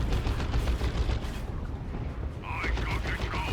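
Lascannon fire from Havoc units in the real-time strategy game Dawn of War 2, heard as a steady, fairly quiet stream of crackling battle noise and mechanical clatter, with a brief high whine near the end.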